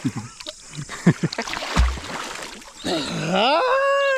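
River water splashes and sloshes close by in short bursts while people talk and shout over it.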